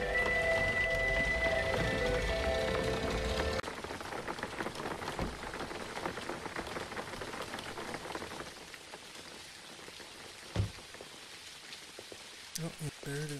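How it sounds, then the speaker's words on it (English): Steady rain pours in the driving game Jalopy, a dense continuous hiss across the first seconds that thins out later, with a few sharp knocks near the end and talk over it. "If it's gonna stop raining eventually."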